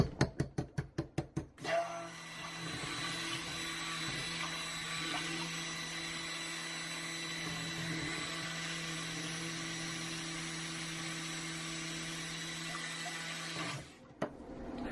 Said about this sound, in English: then I'm going to blend that up well